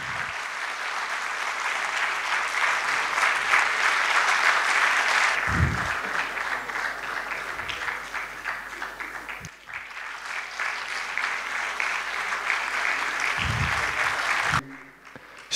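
A concert audience at an evening of classical music gives sustained, dense applause for about fifteen seconds, loud and steady with occasional swells, then breaks off abruptly at the end.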